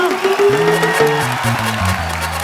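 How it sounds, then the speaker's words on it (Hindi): Applause from a comedy show's studio audience rises as a dense, moderately loud patter under a prominent stepping musical cue, lasting only a couple of seconds. "तो जोरदार तालियां"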